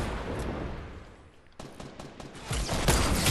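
Gunfire in a video game shootout, rapid crackling bursts that fade briefly and then return louder and denser toward the end, with no clear talk.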